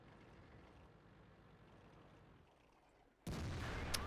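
A single loud IS-3 heavy tank cannon shot in World of Tanks fires at point-blank range, bursting in abruptly after a low rumbling engine bed and sustaining a broad, heavy blast to the end.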